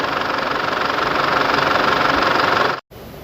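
Isuzu D-Max with a 4JK1 diesel engine idling, a steady close clattering hum that holds even and continuous, then cuts out briefly near the end before resuming.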